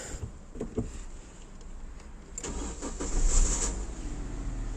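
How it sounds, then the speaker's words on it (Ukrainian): A 2013 Great Wall Haval M2 with a 1.5L engine is started inside the cabin, the starter crank rising into a steady idle that hums on, with faint interior clicks. "Машинка заводиться."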